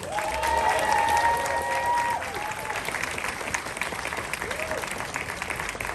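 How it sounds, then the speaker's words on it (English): Applause from a crowd at an outdoor rally against anti-Asian hate in Great Neck, Long Island, welcoming Congresswoman Grace Meng; steady, dense clapping throughout, with a voice or whistle tones over it early on. "Let's give a big round of applause to Congresswoman Grace Meng."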